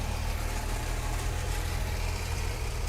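An antique car engine idles steadily at a Labour Day parade, with a low, constant rumble and no noticeable changes in pitch throughout.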